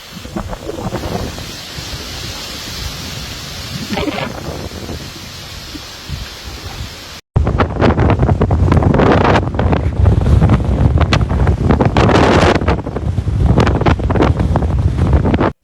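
Strong storm winds of Hurricane Ernesto in St. Martin, gusts roaring and buffeting the microphone; a quieter gusty stretch gives way to loud, continuous rushing wind.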